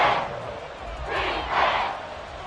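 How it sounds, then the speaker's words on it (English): A packed NFL stadium crowd at Arrowhead roars steadily during a Bengals–Chiefs game, a broad wash of noise that swells in two louder surges toward the end. "The Arrowhead crowd in full roar"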